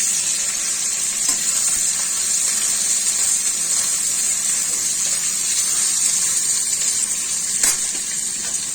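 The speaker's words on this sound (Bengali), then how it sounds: "পেঁয়াজগুলি ছেড়ে দিচ্ছি" Onions sizzle steadily in hot oil in a kadai with dried chillies and cumin, a loud, continuous frying hiss close by for mutton curry, with no talking.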